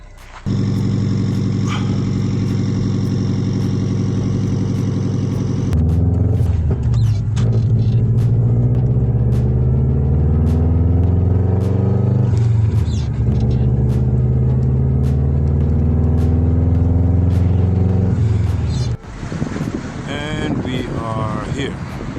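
A Subaru with a faulty starter solenoid drives on the road, with loud steady engine and road rumble and wind buffeting throughout, the tone shifting as it changes gears and speeds.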